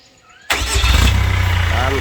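The diesel engine of a Chevrolet Captiva, left unused for six years, cranks on the starter and catches abruptly into a loud, close, rough idle, with a voice speaking over it.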